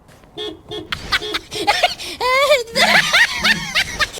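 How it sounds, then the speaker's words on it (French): Short horn toots from a Suzuki Across hybrid SUV at the start, two brief beeps, followed by people talking and laughing nearby. "ce n'est pas un scooter qui klaxonne, c'est bien ce Suzuki Acros."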